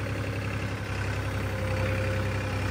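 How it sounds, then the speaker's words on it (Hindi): A tractor engine runs steadily while driving, a close, continuous mid-to-low throbbing rumble with a regular pulsing beat and no talk over it. "ये अपना ट्रैक्टर चल रहा है"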